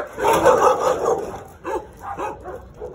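A neighbour's dog barks in several quick bursts, fairly close and loud, with yips between them and no talking over it.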